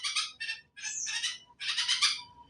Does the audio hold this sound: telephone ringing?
no